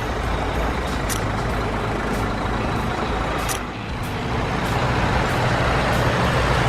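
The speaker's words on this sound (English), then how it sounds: "This is a haul truck." A large haul truck engine, a construction vehicle, rumbles in a steady, loud, continuous drone with a brief dip partway through, alone without speech.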